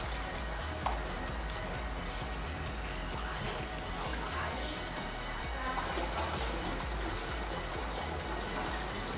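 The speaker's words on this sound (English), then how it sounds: "I will now pour the tap water into the clean container and it will pass through the cloth" Tap water poured into a clean container through a cloth filter, a soft continuous trickling and splashing throughout at moderate distance, fairly quiet.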